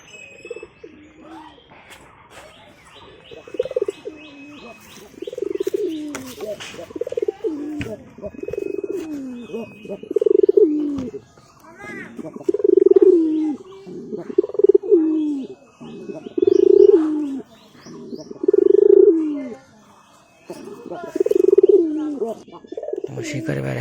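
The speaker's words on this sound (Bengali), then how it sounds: "তোমার শিকারি পায়রাকে আজকে আমি তোমাদের সামনে দেখাচ্ছি তোমাদেরকে।" Hunting pigeons coo close by in a run of regular, throaty, rolling phrases that grow fuller and louder partway through, with lighter bird chirps and rustling in between.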